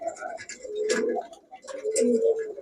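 Pakistani pigeons, a Panki pair and an Army pair, cooing in soft low rolling bursts, close by, with two main swelling calls and faint higher chirps between them.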